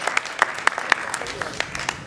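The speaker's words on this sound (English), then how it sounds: "Let's give her a round of applause." A school district audience applauds a speaker at a state-of-the-district address, loud steady clapping from a crowd lasting about two seconds.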